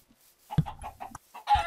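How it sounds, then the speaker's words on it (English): Chickens in a video game cluck in a short, quiet run of soft repeated clucks, then a brighter, louder squawk cuts in at the end. "there's like seven more chickens here"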